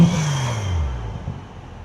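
A BMW X3 M40i engine falls from a short rev, its tone dropping smoothly into a lower settling hum over about a second, close and fairly loud.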